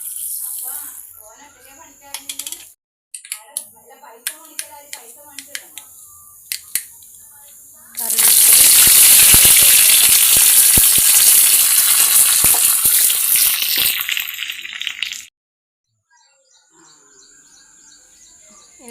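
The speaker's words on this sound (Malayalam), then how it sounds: "അപ്പോൾ ആ എണ്ണ ചൂടായി നമുക്ക് കടുവ് ഇട്ട് കൊടുക്കാം" Mustard seeds dropped into hot oil for a Kasaragod-style beetroot pachadi: sharp scattered pops and crackles come first, then a loud, steady hiss of sizzling for several seconds that suddenly cuts to near silence. A voice talks at times.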